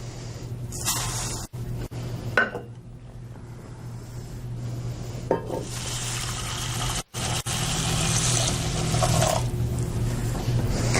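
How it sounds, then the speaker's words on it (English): Water pours into a saucepan holding rice, a close, continuous splashing gush that runs for several seconds with small breaks and a low steady hum in the background. "Simply combine the rice and the water in a saucepan and bring it to a boil."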